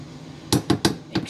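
A spoon knocks against a small pot as a tablespoon of brown sugar and two tablespoons of honey go in, four sharp close clinks spaced unevenly over a second.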